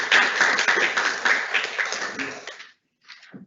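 Audience applause at a student government general session meeting, a steady burst of many hands clapping for about two and a half seconds before cutting off, followed by a brief spoken word.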